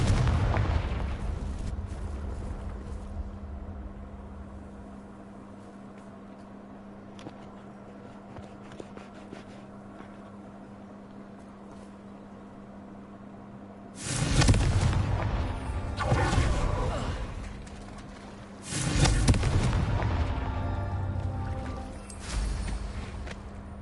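Confringo fire spell in the Hogwarts Legacy video game, heard as two loud broadband blasts with rumbling tails partway through, over a quiet low game ambience with no speech.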